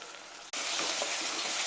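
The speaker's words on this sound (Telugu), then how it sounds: "అల్లం వెల్లుల్లి పేస్ట్ వేసుకోవాలి" Ginger garlic paste dropped into hot oil in a pan for chicken curry, a quiet start cut by a sudden loud burst of dense sputtering sizzle that holds steady, close and alone without talk.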